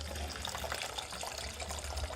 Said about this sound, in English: we grab a mixing bowl and pour out some of this liquid